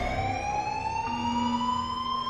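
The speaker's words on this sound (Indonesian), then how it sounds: "tiba-tiba sirine terdengar yang artinya ada bahaya di luar" A steady wailing siren warning of danger outside, from the film Oblivion, sounding loud and continuous with a slowly rising tone and no talk over it.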